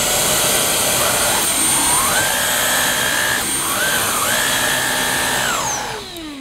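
Whining cordless Vax Blade Pet vacuum cleaner with its mini motorized tool attached, running loud and close; the motor pitch rises and falls in two long swells as the tool is pressed and lifted, then the sound winds down at the end.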